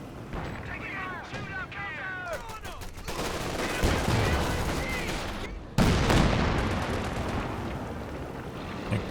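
Gunfire and explosive bursts from a Company of Heroes 2 match, with a Panzer tank firing on an M20 armored car and Jackson tank destroyers returning fire, loud and repeated over a dense battle din, with a sharp blast near the middle.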